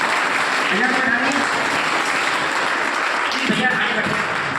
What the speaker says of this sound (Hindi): दो तालियों से भैया का स्वागत है।